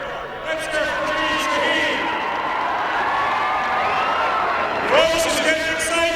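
Crowd at a Kerry campaign election night rally in Boston cheering and shouting continuously, a dense roar of many voices with whoops rising near the end, close and loud.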